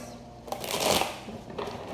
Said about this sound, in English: 2 more shuffles, I hear. 2 more shuffles.